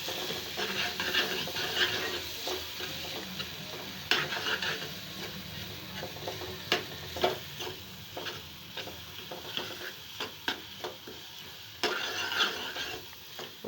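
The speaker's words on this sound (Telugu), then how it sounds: "ఇది బాగా కలుపుతున్నాను." Fish curry being stirred in a pan after chili powder goes in, with soft scraping and clinks of a spoon against metal over a faint sizzle, irregular strokes close by.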